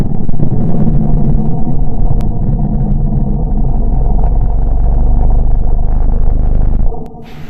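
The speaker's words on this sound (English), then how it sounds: "Let's hear the sound of Venus." A deep, continuous space-style rumble representing the planet Venus, loud and droning with low churning texture throughout, fading abruptly near the end.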